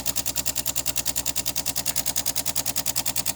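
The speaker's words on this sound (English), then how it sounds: "Let's try running the hot water." A DeLonghi espresso machine dispensing hot water gives off a fast, even pulsing drone, about eight or nine beats a second, steady and close throughout.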